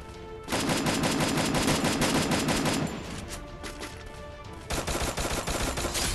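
Dense, continuous bursts of automatic gunfire from M10 and AK weapons in a Free Fire solo-versus-squad match, loud and sustained with a brief lull before the shooting resumes.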